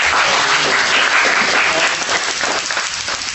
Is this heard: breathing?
no